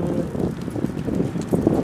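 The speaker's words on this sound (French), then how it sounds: "Putain, le vent se lève encore." Wind rising outdoors and buffeting an unshielded microphone, a low rumbling, gusty roar that swells and dips unevenly throughout.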